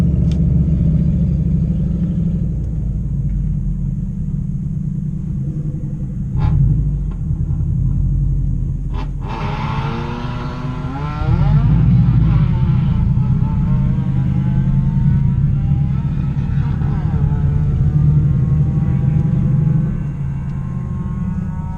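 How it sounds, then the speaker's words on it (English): A car with its mufflers chopped off roars loudly at a track day, a deep, steady rumbling exhaust that swells as it revs up midway and keeps growling close by with no talking. "he's got the mufflers chopped off. That's loud."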